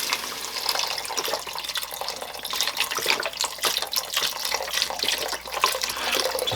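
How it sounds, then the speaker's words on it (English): Two quarts of chicken broth pour into a pot of vegetables for Italian wedding soup, a continuous splashing, gurgling liquid flow with slight fluctuations, close and moderately loud. "I'm going to add 2 quarts of chicken broth to our vegetables."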